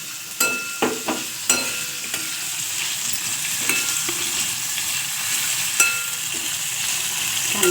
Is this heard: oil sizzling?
yes